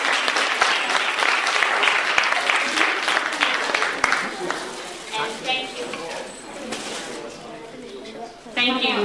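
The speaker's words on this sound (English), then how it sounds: "let's give another round of applause to our team" An audience applauds warmly at a book event for a children's picture book, steady dense clapping that gradually thins out, with a voice speaking over the last part.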